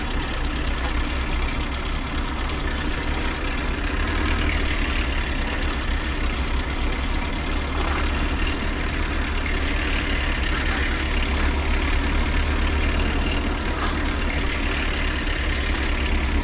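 A Nuffield tractor engine idling on a farm, a steady low mechanical rumble with a faint knocking rhythm, continuous and fairly close with no talk over it.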